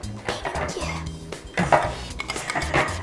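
A spoon stirs slime in a bowl, making irregular clinks and scrapes against the bowl, fairly close but quiet.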